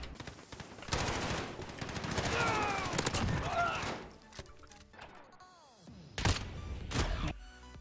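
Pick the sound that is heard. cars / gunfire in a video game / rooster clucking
gunfire in a video game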